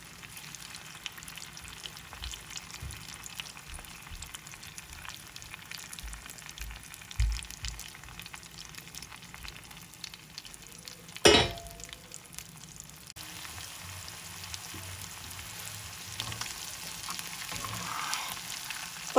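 Mutton liver pieces frying in oil in a pan, a steady low crackling sizzle throughout with a couple of brief louder clatters, one a sharp clank near the middle.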